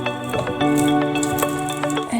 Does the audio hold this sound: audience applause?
no